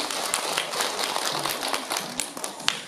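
Applause for an award recipient at a commendation ceremony for the National Assembly Public Administration and Security Committee chair's award, moderate scattered clapping from a modest indoor audience, fairly close and continuous for the whole stretch.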